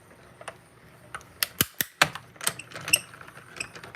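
A mini cut and emboss machine die-cuts an image on a desk, giving a run of sharp clicks and clacks, some in quick clusters, close and fairly loud against a quiet room.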